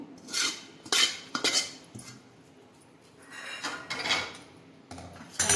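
Steel spoon scraping and clattering against a steel plate as a coconut barfi mixture is transferred and pressed flat, with several sharp metallic scrapes and knocks, close and clear, no talk.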